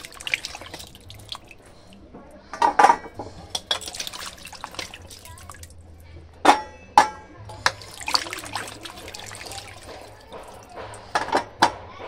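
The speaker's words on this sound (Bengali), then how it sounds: "দু তিনবার জল দিয়ে ধুয়ে নেব, তাহলে কিন্তু একদম পরিষ্কার হয়ে যাবে।" Chicken giblets being washed in water: irregular drips, splashes and trickles with occasional clinks of a bowl, some sharper splashes standing out over a quiet background.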